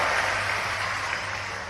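Sustained applause from a large rally audience greeting a chief minister in Badwara, a dense steady clatter of clapping that holds at an even level throughout, with no voices standing out.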